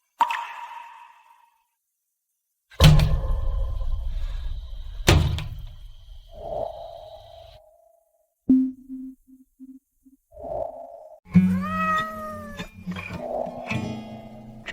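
A stray cat meows and caterwauls loudly outside in heavy rain, several drawn-out, wavering cries with bangs and thuds between them, close by.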